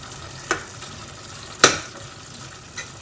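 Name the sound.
beef and onions simmering and frying in a pan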